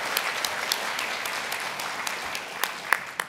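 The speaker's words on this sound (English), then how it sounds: "another round of applause is due to the great work that the ambassador is doing" Guests at a Washington awards dinner and gala applaud the ambassador. Sustained crowd clapping runs throughout, with a few sharper individual claps standing out.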